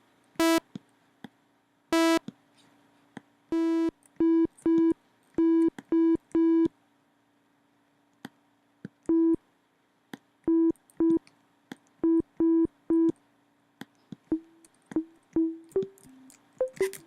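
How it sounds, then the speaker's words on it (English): Short pluck notes from the Synapse Audio The Legend synthesizer, played as a sparse, irregular run of bright staccato hits with pauses between groups, ending in quicker notes that rise in pitch, with no voices. "So we'll make a little pluck sound here."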